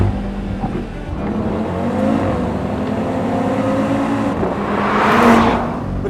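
A 2023 Audi RS3 engine with a 7-speed transmission drones and revs through a loud run, the pitch rising and falling before swelling near the end, heard close without any talking.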